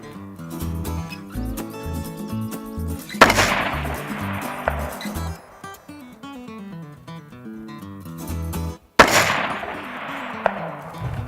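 Two sharp rifle shots are fired at a target through an ATN X Sight 4K Pro scope, loud cracks with decaying tails spaced about six seconds apart over steady tonal background music.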